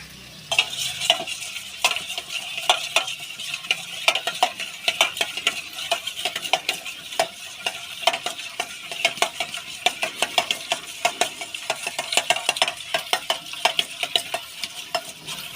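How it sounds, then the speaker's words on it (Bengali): A batter seasoned with salt and ground black pepper being whisked in a bowl for mini Mughlai parathas, a fast, continuous run of clicking whisk strokes against the bowl, close and fairly loud, without speech. "এবার এর মধ্যে দেবো অল্প নুন আর দেবো গোলমরিচের গুঁড়ো। এটা আমি ফেটিয়ে নেব।"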